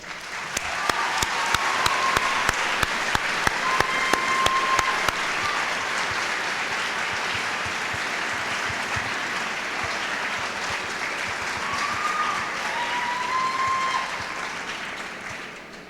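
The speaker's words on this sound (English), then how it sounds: "So will you join me and give them a round of applause?" A large audience applauding at a 1994 Marshalltown Community College graduation ceremony, loud sustained clapping from a full hall with a few sharp individual claps early on and faint cheers, fading slightly near the end.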